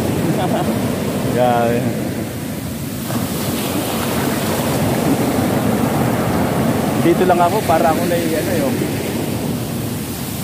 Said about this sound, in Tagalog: Grabe, ayan alon.